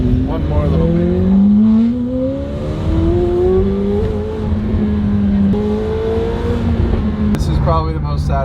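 A Lamborghini Urus supercar drives through a tunnel, its engine revving loud and close with rising gear sweeps and a shift, echoing off the tunnel walls, while a person talks over it.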